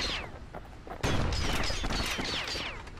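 A rapid-fire weapon in the video game Bastion unleashes a loud, dense volley of overlapping shots and booming impacts, with a sharp jump in intensity partway through.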